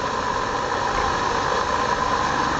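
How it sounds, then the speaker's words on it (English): Continuous gurgling, rumbling roar of diesel fuel auto-igniting inside the vaporizing chamber of a multi-fuel stove at night, steady and moderately loud with a rough, fluttering texture throughout. "That gurgling noise you hear is the auto ignition of diesel fuel"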